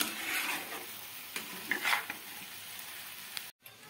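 Masala sizzles and is stirred in a pan over a medium flame while cooking for an onion- and garlic-free paneer and vegetable curry, a steady close frying hiss with a few scraping strokes that briefly cut out near the end.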